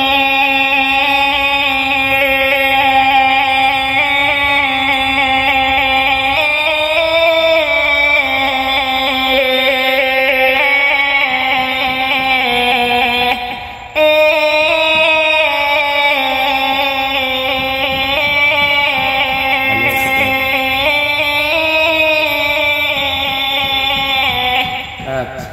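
A man imitates the snake charmer's been pipe with his voice, a sustained nasal, reedy melody that winds up and down continuously, close and loud, with a brief break midway.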